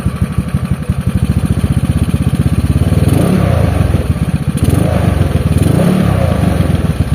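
A Honda Beat carburetor scooter with an aftermarket exhaust idles loud and close with a deep, rapid throbbing exhaust note, swelling slightly in a couple of gentle revs.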